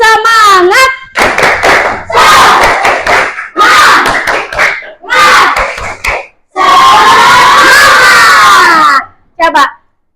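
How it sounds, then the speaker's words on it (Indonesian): Schoolchildren in an Indonesian primary school classroom perform a rhythmic spirit clapping chant, bursts of loud group clapping and chanted voices in short patterned phrases, with a teacher's voice between them. "Tadi kita boleh tepuk semangat? Tepuk semangat."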